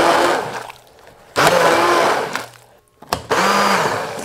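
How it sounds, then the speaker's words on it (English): An immersion blender whirs through hot apple cider syrup with chunks of apple, loud and close, in three long bursts separated by brief pauses. "I'm going to put in that immersion blender, and you'll be able to see it get nice and creamy"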